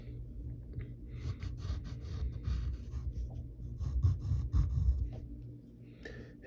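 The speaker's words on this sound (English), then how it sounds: "We're drawing now we're onto the bottom circle." Pencil drawing on paper, close and continuous scratchy strokes as a circle is sketched, with soft breathing and no talking.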